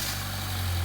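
Land Rover Freelander 1.8 turbo engine running briefly at idle, a steady low rumble with mechanical vibration throughout, close by and alone.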